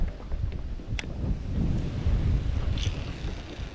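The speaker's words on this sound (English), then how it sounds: "Pretty windy." Strong wind buffets a small aluminium tinny out on a river, producing a continuous low rumbling roar of gusts over the microphone, with faint higher rattles and no speech.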